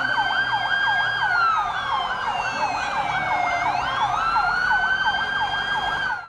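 A fire engine with a 52-metre ladder sounds its wailing siren during a school fire drill, a loud continuous rising-and-falling electronic wail close by with no talking over it.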